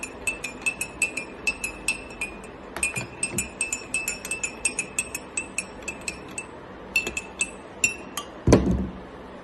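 A metal spoon stirs honey into a lemon drink in a glass, clinking against the sides in quick, steady rhythmic taps, close and clear, with a final louder knock near the end.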